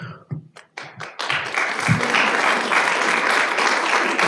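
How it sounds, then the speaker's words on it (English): A few scattered claps at a city council meeting quickly swell into full audience applause, which then continues as a loud, dense, sustained roar of hands. "I appreciate the applause"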